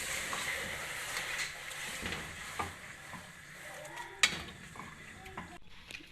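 Onions stirred as they fry in a pan for chicken biryani, a quiet steady sizzle with occasional scraping clicks of the spoon, one sharper knock partway through.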